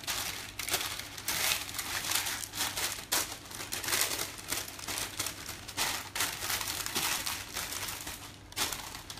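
Baking paper being folded over to line a tray crinkles and crumples close by in irregular bursts for several seconds, with no talking.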